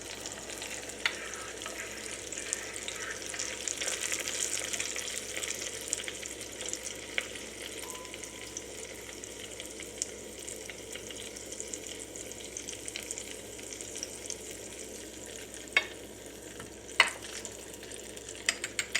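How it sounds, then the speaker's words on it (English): Hot oil sizzles over chili flakes and sesame seeds in a bowl, a faint steady crackle and hiss with occasional clinks of a stirring utensil. "Make sure you stir as you go so the chili flakes don't burn."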